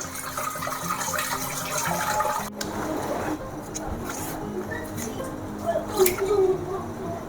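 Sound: cold water poured onto boiled egg noodles

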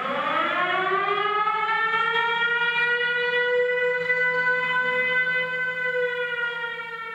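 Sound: air raid alert siren

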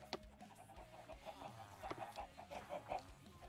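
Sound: Minecraft chickens clucking, video game

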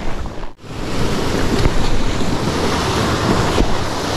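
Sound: small waterfall at horse wellness area

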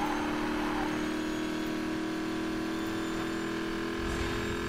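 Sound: race cars behind the player in Need for Speed Payback video game

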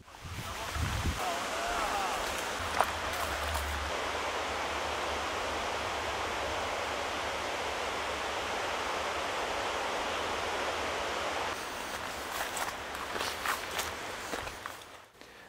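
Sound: water flowing in a stream towards Hazelmere Dam

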